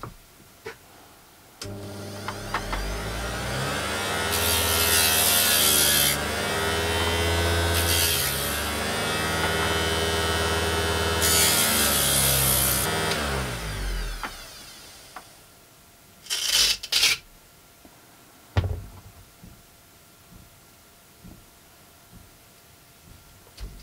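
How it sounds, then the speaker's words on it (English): Rotary tool spinning diamond discs against a marble pendant, a buzzing motor that winds up, holds with wavering pitch for about thirteen seconds, then winds down, followed by a few short grinding bursts and clicks. "now I'm going to carry on through the whole set of diamond discs until it's polished"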